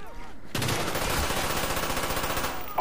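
A loud, continuous burst of rapid automatic gun fire in the video game Call of Duty Black Ops, starting abruptly after a brief quieter moment and hammering on steadily to the end, alone without talk.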